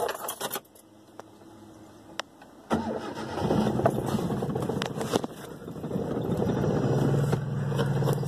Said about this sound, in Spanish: Si se fijan, enciende difícil porque tiene un conector de la bobina de encendido desconectado.